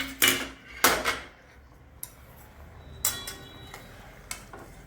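A spatula clinks and scrapes against a pan as egg curry (anda bhaji) is flipped, with a few sharp, separate metallic knocks spaced over several seconds and quiet pauses between them.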